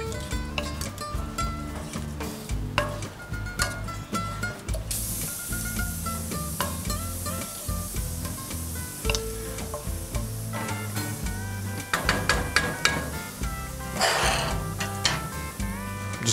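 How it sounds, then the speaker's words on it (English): New Mexican chili sauce bubbles and sizzles in a pan while a spoon stirs and taps, with steady hissing under repeated clinks and scrapes. Music plays faintly in the background. "I'm just gonna let this simmer for a little bit"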